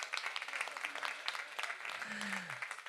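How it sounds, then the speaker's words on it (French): A crowd applauds at the opening ceremony of the Relais pour la Vie charity event in Rixensart, with steady, dense clapping throughout and a brief voice near the end. "On peut l'applaudir, s'il vous plaît."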